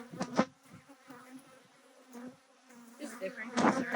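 Honeybees buzz around an active beehive, a close droning hum with louder bursts as individual bees pass near, and faint talk mixed in.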